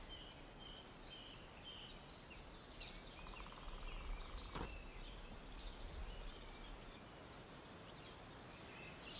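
Birds call and chirp in a forest, with insect or cricket trills mixed in; steady, fairly faint outdoor chorus with high twittering throughout and no talking.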